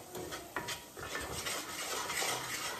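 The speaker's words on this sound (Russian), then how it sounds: "вымешиваем." A spoon stirring Armenian soup in a pot, with steady clinking and scraping of metal against the pot, close and continuous throughout.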